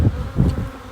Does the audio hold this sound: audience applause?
no